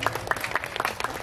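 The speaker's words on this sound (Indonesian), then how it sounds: "Tepuk tangan untuk Mas Ansor." A brief burst of audience clapping at a wedding sermon gathering, a short, dense patter of hands near and moderately loud.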